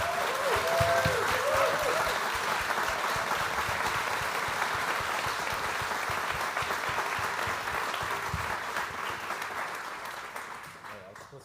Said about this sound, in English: if I could have one round of applause for Nolan, but also their family